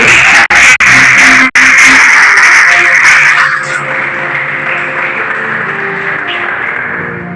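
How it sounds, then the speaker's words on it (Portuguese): A church congregation applauds during a family worship service. The clapping is dense and loud for about three seconds, then settles into softer, steady crowd noise. "aplaudam os senhores"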